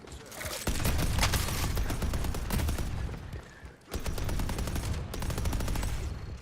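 Rapid turret gunfire in a video game, a dense continuous rattle of fast shots that briefly drops off near the middle and then resumes.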